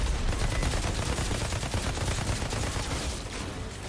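Sustained gunfire in the Outriders video game, a dense, unbroken rattle of shots that stays loud and close throughout and eases only slightly near the end.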